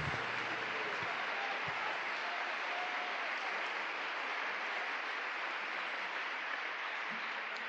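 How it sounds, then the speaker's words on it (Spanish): Steady applause from a church congregation, continuous and even, heard at a moderate distance with a soft background hum. "Palmas, palmas para el Señor."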